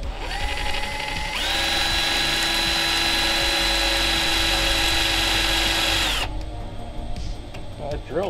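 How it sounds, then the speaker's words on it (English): A power drill spins up and drills steadily for several seconds during work on a replacement car hood, a loud, close whine that holds a constant pitch and then cuts off, with background talk. "The drill's pretty easy."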